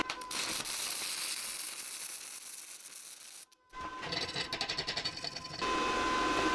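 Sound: stick welding aluminium with welding rods

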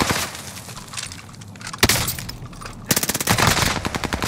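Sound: gunfire in Call of Duty: Modern Warfare video game

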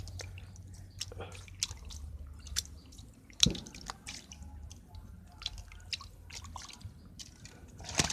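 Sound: bean sprouts being washed in water

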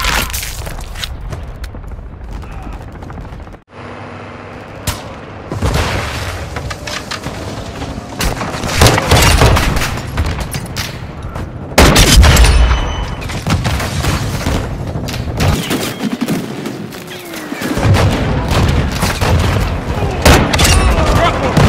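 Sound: cruise missile explosions in Call of Duty MWII video game

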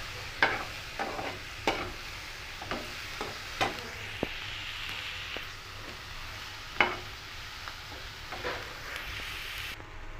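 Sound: ridge gourd sautéing in a pan

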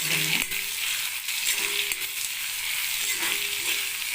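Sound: onions being sautéed in fish-frying oil

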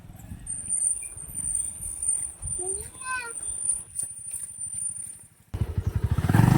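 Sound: motorcycle riding on rocky off-road track

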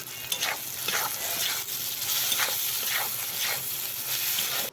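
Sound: spice paste sizzling while frying with potato and eggplant

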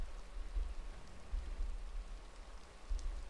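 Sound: rain falling outside in Minecraft Engineers Life modpack video game

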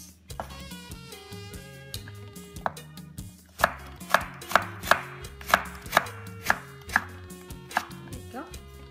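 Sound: shredding cabbage finely with a knife for pickles

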